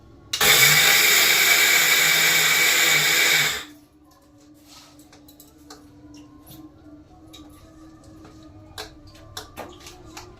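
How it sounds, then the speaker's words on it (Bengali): A kitchen mixer grinder whirs loudly for a few seconds, blending a paste for cooking, then switches off abruptly, leaving faint background clatter and a low hum. "এইবার মিক্সিতে আমি পেস্ট করে নিই"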